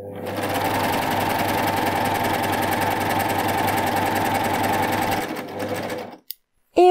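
A Baby Lock Euphoria coverstitch machine sews a single-needle chain stitch on stretchy fabric, giving a loud, steady, fast mechanical whir for about six seconds before it stops abruptly.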